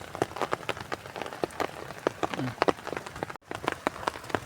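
Hailstones patter and tap on a hard surface in a steady scatter of sharp, close impacts, with brief faint voices in the background.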